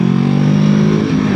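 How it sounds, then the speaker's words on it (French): Honda CBR500R (2019) parallel-twin engine producing about 47.5 horsepower, a loud, steady, buzzing engine drone held close for just over a second with no talk. "Alors le moteur n'est pas un foudre de guerre non plus, c'est un Twin de 47 chevaux et demi"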